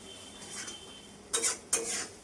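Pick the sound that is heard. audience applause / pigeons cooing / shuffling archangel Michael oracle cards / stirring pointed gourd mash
stirring pointed gourd mash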